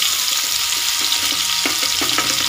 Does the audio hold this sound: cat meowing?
no